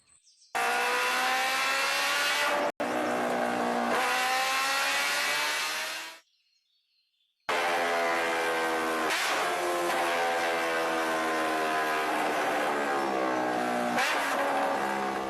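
A motorcycle engine in an animated story drones loudly and steadily with rising revs, cutting out briefly near the middle before starting up again and running on alone.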